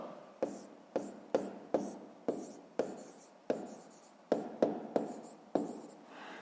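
Pen writing on paper for a math exercise, a quick series of about a dozen scratchy strokes at an uneven rhythm, close and fairly quiet.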